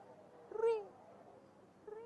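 A person mimics a cat, giving a short high chirp that bends into a meow-like call, followed by quiet murmuring and a brief second vocal sound near the end.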